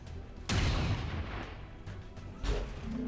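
A heavy gunshot booms in XCOM 2: War of the Chosen, followed a couple of seconds later by a second, softer blast, both loud and close with a rumbling tail and no talking.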